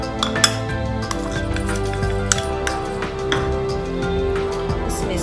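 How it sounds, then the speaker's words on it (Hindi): Gram flour is put into a metal vessel for papdi dough, with light clinks and taps of metal utensils against the dish in a kitchen, steady and close. "एक बर्तन में हम बेसन लेते हैं,"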